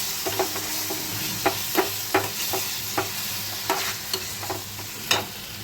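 A spice paste with ground whole cumin is sautéed in a pan for a fish-roe fritter curry: a steady, close sizzle broken by regular scraping stirs about every half second.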